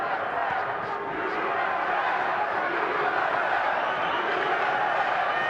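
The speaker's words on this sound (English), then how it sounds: "The crowd is chanting USA." Boxing arena crowd chanting USA during a USA-versus-Mexico title fight, a steady loud roar of massed voices filling the hall for the whole stretch without a break.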